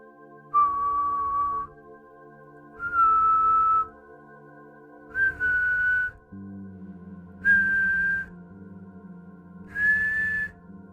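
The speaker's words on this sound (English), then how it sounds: "It apparently always resembles the sound of an ascending scale." Eerie whistling from El Silbón, the legendary Venezuelan ghost, in five separate rising phrases that each climb like an ascending scale, heard clearly over a low, steady musical drone.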